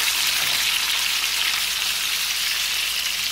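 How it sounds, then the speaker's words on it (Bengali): Small kai fish, climbing perch, frying in hot oil in a pan, a loud continuous hissing sizzle that stays even from start to finish with no voices. "আমি এই মাছগুলোকে ফ্রাই হতে দিলাম।"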